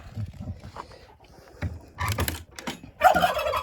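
A turkey gobbles in bursts out in the cold on a winter farmyard at -23 frost, with a few loud rattling calls close by.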